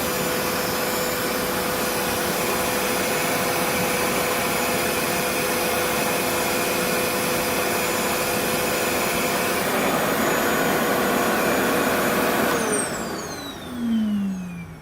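A Revair reverse-air hair dryer runs steadily while it dries curly hair, a loud, constant whooshing drone that holds for about twelve seconds and then winds down with a falling whine.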